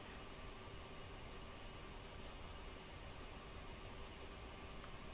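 Concorde engine number 4 running in Microsoft Flight Simulator 2020, a faint, steady, even roar with a broad noisy hiss and no change across the whole stretch.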